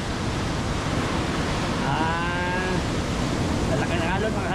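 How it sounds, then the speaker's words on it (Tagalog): Big typhoon waves from Typhoon Opong crash in a continuous, loud roar that never lets up, with a brief tonal cry rising faintly above the surf partway through. "Yan ang alon bagyo"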